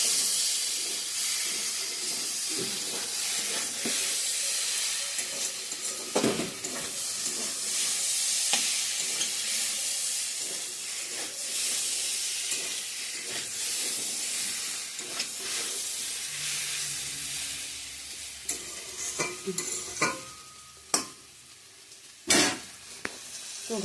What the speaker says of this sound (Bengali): চাল কুমড়া ভাজা করে নিচ্ছি